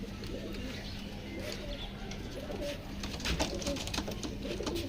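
French pigeons, shown alongside quail, cooing near a steady background hum, with low soft coos and a few faint chirps mixed in.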